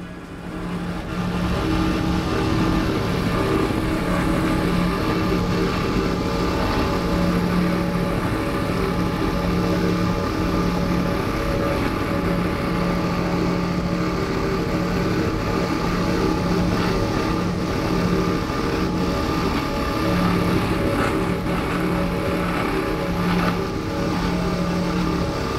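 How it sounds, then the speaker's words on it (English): Powerboat with big V8 engines roaring steadily at speed on the Emerald Coast, a loud, continuous deep drone with wind rush, sustained without a break. "the roar of those big V8s"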